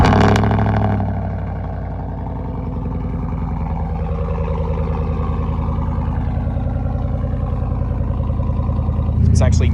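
A high-mileage Chevrolet Silverado Trail Boss pickup engine starting with a loud cranking burst, then settling into a steady, even idle with a faint rhythmic tick, while a plane passes overhead.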